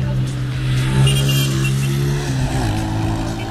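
Motorbikes ride roughly along a busy Cairo street, their engines droning close by with a rising and falling pitch, over background street noise and occasional voices.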